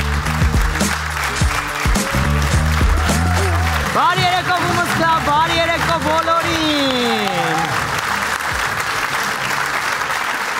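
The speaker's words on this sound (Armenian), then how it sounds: "Բեմ արտակում է Գրիգը ձեր մեգա բարձր ծափարությունների ներքո" A live audience at a stand-up comedy show applauds loudly as the comedian walks on stage. The clapping runs throughout under a greeting from the stage and a short musical sting.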